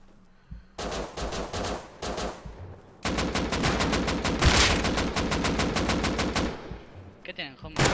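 Rapid automatic gunfire in the video game Rust, loud bursts of repeated shots in quick succession with brief pauses between volleys, while someone talks excitedly over it.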